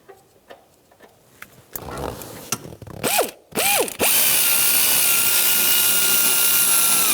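Seat bolts on a 2000-2006 Chevrolet Tahoe tightened down with a tool, first as scattered clicks and short ratcheting bursts, then a loud, steady whirring drive that runs to the end, close up and with no talk.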